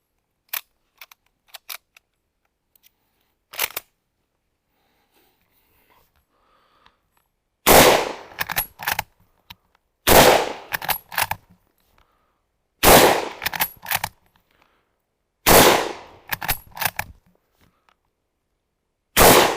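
Mauser-Vergueiro 1904/39 bolt-action rifle fired outdoors: four loud, sharp gunshots spaced a few seconds apart, each followed by brief bolt-cycling clicks, after quieter metallic reloading clicks and rattles.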